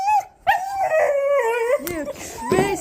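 Several dogs howl and yip in drawn-out, wavering cries, loud and close, with a brief pause early on and a burst of barking near the end.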